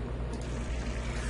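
In the video game Gone Home, water pours in a steady, faint, continuous stream from a refrigerator's water dispenser.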